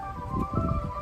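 Ice cream truck chime playing a steady, sustained melody with a low engine rumble underneath, heard from nearby outdoors.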